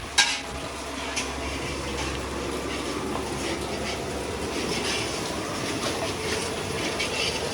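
Food stirred and frying in a large pot for an annaprashan celebration, a continuous close sizzle with scraping stirring noises and a soft knock at the start, no one speaking.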